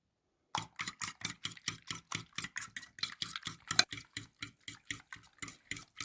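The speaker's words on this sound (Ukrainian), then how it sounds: "Два яйця збиваємо з двома ложками молока." Rapid, regular clinking of a utensil against a bowl as two eggs are whisked with milk, beating in a steady quick rhythm for several seconds after a brief silence.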